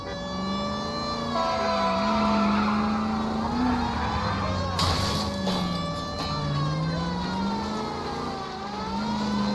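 A car in the LA Noire video game skids and spins, with loud sustained tire squeal sliding up and down in pitch over a continuous engine roar.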